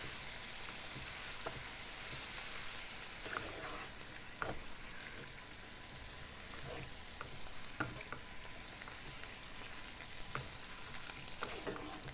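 Chili being mixed with tomato paste in a pot, a faint continuous sizzle with occasional scraping and clicking stir strokes.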